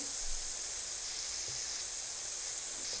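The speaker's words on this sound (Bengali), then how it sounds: "আমার এগুলো আর একটু ভাজা লাগবে।" Chopped ridge gourd fries in a pan for a mashed bharta, giving a constant close hissing sizzle that stays even throughout with no talk.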